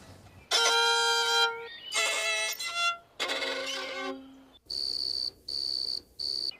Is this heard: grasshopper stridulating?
yes